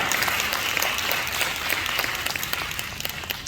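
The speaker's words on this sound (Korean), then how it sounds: "미연 성도님 그리고 정윤, 정호, 정서 이 세 자녀 함께 예배 자리에 나오셨는데 박수로 환영해 주시겠습니다" A church congregation applauds to welcome visiting families at a Sunday anniversary service, a moderately distant, steady wash of clapping from many hands in a large room.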